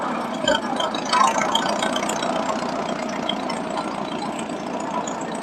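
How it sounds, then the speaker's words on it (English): A 1920s Allis Chalmers 2035 tractor engine chugs steadily at a parade, a continuous mid-range running rumble heard from moderate distance with outdoor ambience. "Here we got Robert Swanson driving a 1920 Allis Chalmers 2035."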